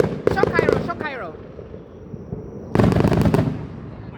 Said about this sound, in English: Fireworks. Was it too loud?